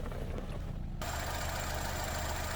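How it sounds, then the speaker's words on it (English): A Renault Koleos SUV with a 2.5-litre petrol engine runs at a steady idle, a dense continuous low rumble with a broadband hiss that brightens after the first second, with no talk over it. "All right, now the engine is running."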